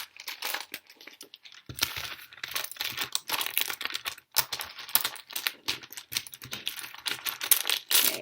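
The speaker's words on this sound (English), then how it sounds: "You just shuffle these letters." Letter tiles are shuffled across a tabletop in a rapid, irregular clatter of small clicks and rattles, close and continuous with no talk.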